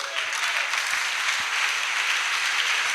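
A church congregation applauds in a steady, dense burst of clapping that holds evenly throughout, filling the room at moderate loudness.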